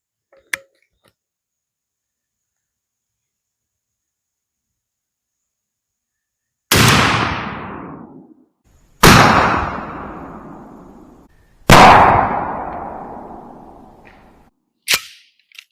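Four sharp shotgun blasts from a 12 gauge firing Winchester Drylok magnum-length steel loads at a target 30 yards away, each a loud crack with a long decaying boom, spaced a few seconds apart after a long quiet stretch.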